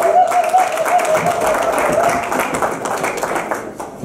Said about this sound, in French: Elle mérite des applaudissements supplémentaires